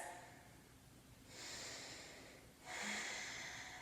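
Deep breathing during a yoga pose, two slow, soft airy breaths drawn close to the microphone, quiet and unhurried with no voices.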